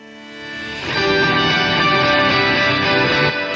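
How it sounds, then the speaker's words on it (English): Reversed guitar chords swell up from nothing into a wide, effect-soaked wash that holds steady, with distortion and chorus shimmer, no voices. "here I have some guitar reverse chords that sound like this"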